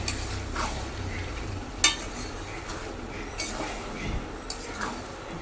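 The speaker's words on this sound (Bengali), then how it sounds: "সব কিছু দিয়ে সমস্ত ভালো করে একবার মিশিয়ে নিচ্ছি" A spoon scrapes and stirs boiled peas through fried spices in a pan for ghugni, with soft clinks and one sharp knock against the metal, steady and close.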